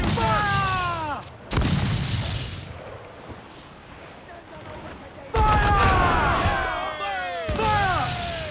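Ship cannons firing in a pirate naval battle in Assassin's Creed IV Black Flag, a few loud booming blasts punctuating sustained shouting voices.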